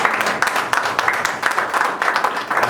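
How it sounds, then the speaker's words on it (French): A church congregation applauds at a French consecration service, steady ragged clapping from many hands filling the room, fairly loud and without a break. "Acclamons pour la parole de Dieu."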